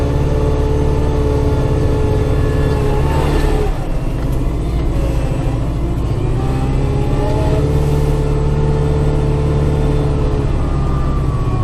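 Tractor engine working steadily while moving heavy, partly frozen snow, a loud close rumbling drone that rises and falls in pitch with load and revs, with no talk.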